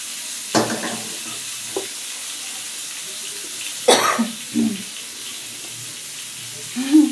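A rohu fish and potato curry sizzles softly and steadily in a kadai, broken by a few sharp knocks and scrapes of stirring spaced several seconds apart.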